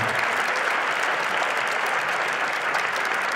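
A church congregation applauds steadily throughout, a dense, even wash of clapping hands filling the room with no break.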